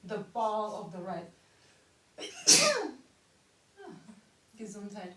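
A single sharp sneeze bursts out during a beginner Hatha yoga class, set between stretches of calm spoken instruction from the teacher.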